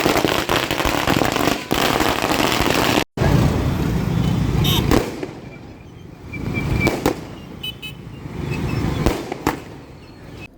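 Firecrackers bursting at a BJP victory celebration at a street circle in Bhatkal, with loud sharp cracks and rapid crackling bursts over traffic noise and a crowd, then fainter scattered pops.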